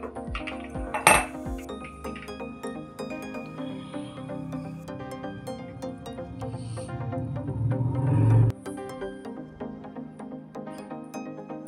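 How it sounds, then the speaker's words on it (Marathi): A spoon clinks and scrapes against a bowl while beetroot paste is mixed into paratha dough, with repeated close metallic knocks and a dull scraping swell before a sudden stop. "हे व्यवस्थित मिक्स करून घ्यायचं आहे"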